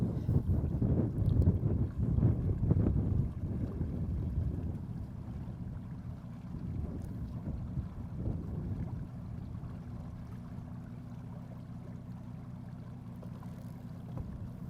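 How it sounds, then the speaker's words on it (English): A fishing boat's engine idles along at low speed, a steady low rumble with wind buffeting the microphone, louder at first and then settling into a quieter, even drone. "Now you can see the boat's idling along"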